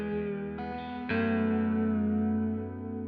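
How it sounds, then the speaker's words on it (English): A Vongon Ultrasheer pedal set with reverb feeding into vibrato turns sustained guitar chords into a lush, wavering wash; a new chord strikes after about a second and rings out, slowly decaying with shimmering pitch wobble. "So currently I have it set reverb going into vibrato."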